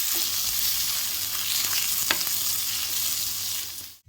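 Spices sizzling and frying in oil in a kadhai for Maharashtrian black-masala chicken curry, a steady close hiss with faint stirring scrapes, continuing alone without talk until it cuts off at the end.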